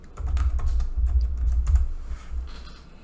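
A board name is typed on a computer keyboard in a short, close flurry of keystrokes over a low rumbling background, trailing off into a few lighter taps.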